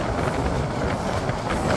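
The Porjotok Express runs at night between Cox's Bazar and Dhaka, with a loud, steady rumble and rattling clickety-clack of wheels on rails from inside the carriage.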